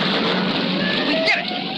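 Cartoon rain pours steadily from a cloud as a dense, even hiss of falling water, close and constant, with a brief whooshing swell near the end and a voice speaking over it.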